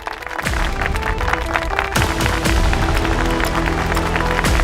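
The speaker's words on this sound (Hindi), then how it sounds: "वरदान इंडस्ट्रीज के फाइनेंशियल एडवाइजर के लिए जोरदार तालियां" Applause from a stage audience greets the financial advisor of Vardaan Industries, a dense, steady clatter of clapping that swells after a brief quiet start and holds loud to the end, with tonal music running underneath.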